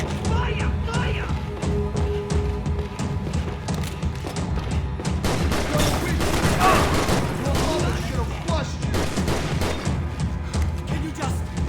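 Dense, sustained gunfire from the video game Max Payne 3, continuous bursts and impacts layered with shouting voices and combat chaos, loud throughout.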